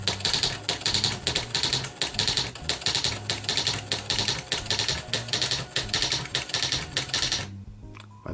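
A Smith Corona electric typewriter typing in bold and underlined mode, producing a fast, regular run of loud mechanical strikes and clacks close by, which stops abruptly near the end.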